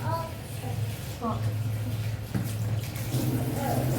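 Leafy greens being washed by hand in water, with soft splashing and running water under a voice talking throughout.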